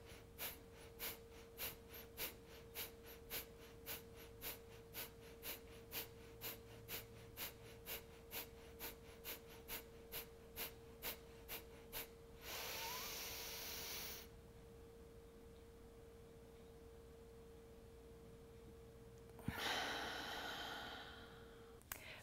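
Rhythmic forceful breaths of a rapid breathing exercise, about twenty sharp even pulses in quick succession, followed by a long drawn inhale, a pause of quiet, and a final long exhale, all close and alone with no talking.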